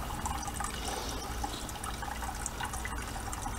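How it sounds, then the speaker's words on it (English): A Sawyer Mini gravity water filter hanging in a garage, with water dripping and trickling through it in a steady wet patter, close and fairly faint, with no voices. "the water, it's practically working like a gravity water filter"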